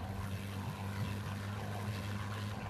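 Steady motorboat engine drone with a low, even hum and strong low harmonics, constant and close, with no voices present.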